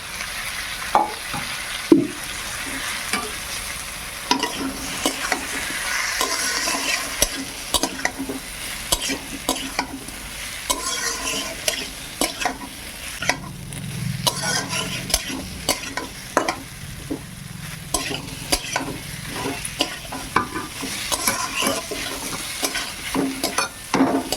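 Jackfruit and prawns stir-fried in a spice paste in a pan: a long run of repeated scraping and knocking stirring strokes over a low sizzle, with occasional louder clanks of the utensil against the pan.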